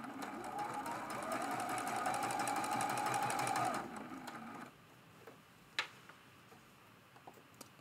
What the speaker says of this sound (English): We're just going to sew past that just a little bit. And we'll backstitch and lock that in place.